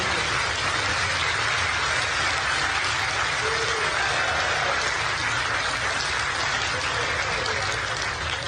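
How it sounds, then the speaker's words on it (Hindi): Dense, sustained applause from a large audience in an auditorium during a state-level honours ceremony, steady loud clapping filling the whole stretch with no talk over it. "मैं चाहूंगी एक बार राणा के सम्मान के लिए खड़े होकर जोरदार तालियां आप सबकी यहाँ इस सभागार में होनी चाहिए।"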